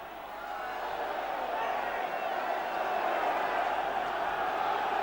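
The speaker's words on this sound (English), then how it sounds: "the crowd trying to rouse the third division side to the dramatic finish" A 1979 FA Cup third-round crowd at Southend v Liverpool keeps up a dense, even roar that holds steady throughout, with no single cheers or claps standing out.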